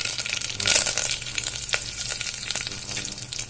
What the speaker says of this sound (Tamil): எண்ணெய் காஞ்சிருச்சு, கடுகு போட்டுருங்க. கருவேப்பிலை,